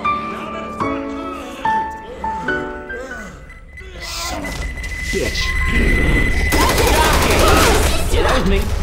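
Gunfire in the co-op zombie shooter Left 4 Dead 2 rattles in dense bursts that swell into sustained loud shooting in the second half, with shouted voices and game music mixed in.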